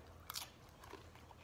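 Crunchy black bean nachos are bitten close to the mouth, a sharp crisp crunch followed by softer chewing crackles, faint and alone.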